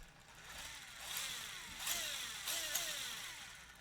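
Small RC car motor driven by a Furitek PIXI ESC, whirring up in rising pitch sweeps as the throttle is pulled in three bursts, fairly faint and close, with no talk.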